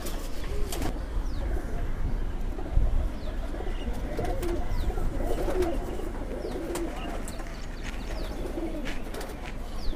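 Several pigeons in a loft give repeated low, rolling coos that overlap steadily over a constant background with no talking.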